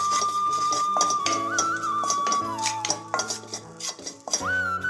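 Asafoetida powder dry-roasts in a pan, with repeated light clinks and scrapes of a metal spoon against the pan, close by, running under continuous background music.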